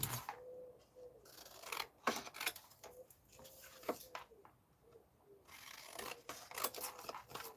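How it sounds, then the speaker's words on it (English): Scissors snip through double-sided decorated Stamperia junk journal paper, with a run of short crisp cuts and soft paper rustles up close, some steady and some in quick pairs, with no talk. "these would need to be trimmed a little bit neater than I'm doing"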